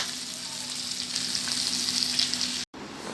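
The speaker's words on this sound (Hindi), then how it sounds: "इस तरीके से आपने सारे कबाब फ्राई कर लेने हैं।" Beef shami kababs fry in a pan with a constant bright sizzle of hot oil, close and even, with a short cut to silence near the end.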